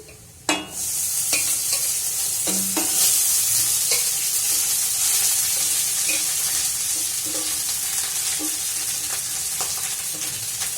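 Rice being stirred in a sizzling frying pan, opening with a thud as it drops in, then a loud continuous sizzle with repeated scraping strokes of the spatula close by.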